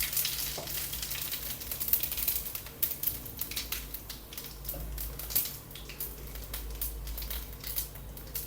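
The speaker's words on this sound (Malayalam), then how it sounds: "1 ടീസ്പൂൺ കടുക് ഇട്ട് കൊടുത്തേ. ഇതിനകത്ത് 1 ടീസ്പൂൺ പെരിഞ്ജീരകം ഇട്ട് കൊടുത്തേ." Mustard seeds and fennel seeds sizzle in hot oil, a close, steady frying hiss dotted with quick irregular pops and crackles as the seeds burst.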